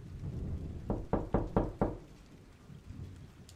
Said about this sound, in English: A knock